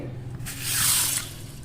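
Horse gram lentils swished and rinsed by hand in a bowl of water, a soft wet sloshing that swells briefly in the middle of a short moment, close and fairly quiet.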